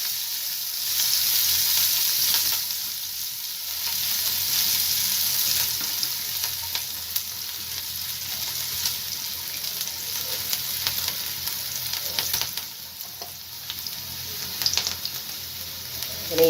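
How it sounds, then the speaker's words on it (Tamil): Chopped onions and green chillies fry in hot oil in a pan with cumin. A steady close sizzle crackles throughout, with occasional stirring clinks and no talk. "இதிலே வெங்காயம், பச்சை மிளகாய் சேர்த்துக்கலாம்."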